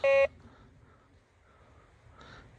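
Nalanda metal detector on a trash-filled hunting spot gives short electronic tone beeps, one at the start and another at the very end, with quiet rustling and faint background noise in between.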